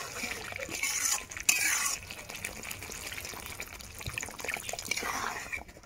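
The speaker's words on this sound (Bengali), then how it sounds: "এবার জল দিয়ে দেবো।" Water poured into a pan of fried spices for a soybean omelette curry, a splashing, trickling pour with sizzle that fades and swells over several seconds, heard alone without talk.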